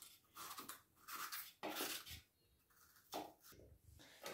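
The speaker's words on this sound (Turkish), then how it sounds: "Biberlerimizi de bunun içine şöyle doğrayacağım" Peppers are chopped in a manual kitchen chopper in a home kitchen, giving quiet bursts of clattering and scraping from the blades and plastic bowl, with short pauses between the bursts.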